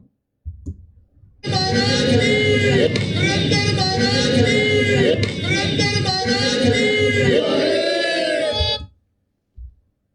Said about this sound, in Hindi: उस जयकारे का समर्थन करने के लिए सारी भीड़